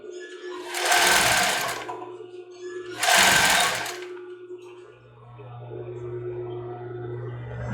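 An overlock sewing machine stitches fabric in two loud, close bursts of rapid whirring, then settles into a quieter steady hum, with no speech over it.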